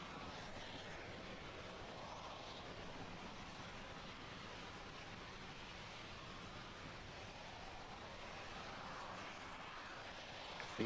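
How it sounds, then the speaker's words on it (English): Rocket first-stage engine burn during the Iridium-5 launch, heard as a steady, distant broadband roar and rumble that stays unbroken and even for the whole stretch. "This first stage burn will last for about another minute and 10 seconds."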